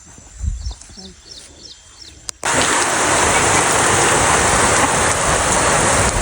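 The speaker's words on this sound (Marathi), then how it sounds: "तेवढ्यात पावसाचं आगमन झालं" After a few quiet seconds with faint birdsong, steady heavy rain abruptly starts and keeps pouring without letup, over a sugarcane farm in Satara, Maharashtra.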